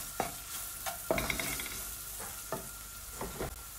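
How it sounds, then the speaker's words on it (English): Curry powder being stirred into hot oil in a pan to form a paste, with a soft sizzle under repeated spoon scrapes and knocks against the pot, close up. "Stir it up till it becomes a nice paste."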